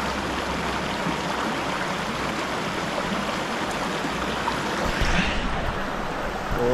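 A mountain stream in the Harz forest of Germany rushes steadily nearby, its constant wash of flowing water filling the whole stretch without pause.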